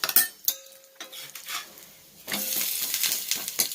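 Metal utensil clinks and scrapes against a pan, then a burst of sizzling as a ragi flatbread is turned over.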